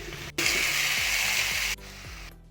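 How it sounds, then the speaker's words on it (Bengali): Cauliflower with carrot and capsicum stir-frying in a pan, a steady loud sizzle with rhythmic scraping of a stirring spoon, broken by short pauses. "এরপরে ফুলকপি দিয়ে সেটাকে ভালো করে নেড়ে নেব 5-7 মিনিট"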